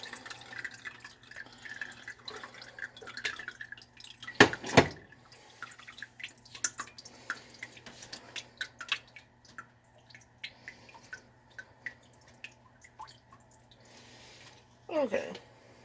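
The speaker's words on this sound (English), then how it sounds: "strain this one right into this pot" Homemade chicken broth poured through a strainer into a pot, heard as faint close dripping and splashing with a louder pouring burst midway and another near the end, while a person talks over it.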